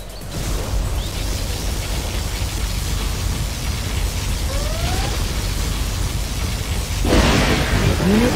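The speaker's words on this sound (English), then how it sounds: "Particle cannon activated." A particle cannon fires in the real-time strategy game Command & Conquer Zero Hour, a steady roaring, crackling blast that swells and brightens sharply near the end, with thin rising whines over the din.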